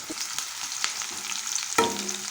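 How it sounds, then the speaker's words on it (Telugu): Onions frying with whole garam masala in a pan, a steady close sizzle with a few scraping stir sounds and a sharp clatter near the end, no talking. "ఈ ఆనియన్స్ అన్నీ చక్కగా ఫ్రై చేసుకోవాలి"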